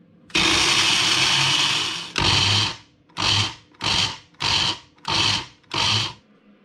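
A food processor blitzes blanched almonds, walnuts and honey roasted peanuts for a fruit and nut cake: one long loud whirring run, then a shorter burst and five quick pulses, close up.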